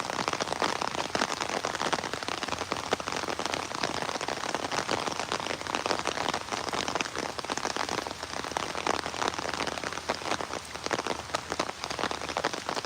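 Rain pours down on open farm fields, a dense, steady patter drumming without a break from start to finish, with no voices.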